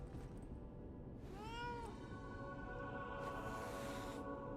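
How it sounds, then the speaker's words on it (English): A cat meows several times in the video game Lies of P, a clear rising-and-falling meow in the middle of the clip over a steady bed of game ambience and low rumble. "Ah, kitty!"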